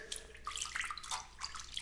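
Water splashes and sloshes in a horse trough as a cat bathes in it, a faint, quick series of light splashes and drips with no talk.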